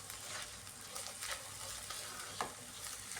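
Chopped green beans sauté in oil over a medium-to-high flame, giving a soft, even sizzle with light stirring clatter and a brief sharper scrape near the end.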